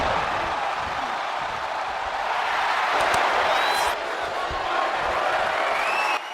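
A wrestling arena crowd roars in WWE 2K25, a loud, sustained wall of cheering with faint whoops and a few impact thuds mixed in.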